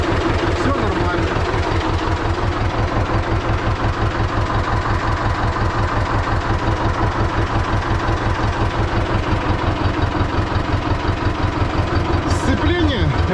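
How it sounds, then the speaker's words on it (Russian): A T-16MG tractor engine runs steadily at idle with its power take-off shaft turning, giving a continuous, even mechanical chug close by with no talk over it. "Так, как видите, вал отбора мощности крутится."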